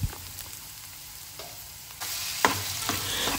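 Finely chopped onion frying in a hot pan, a continuous close sizzle broken by a few scraping stirs and clicks of the spoon, with no talking.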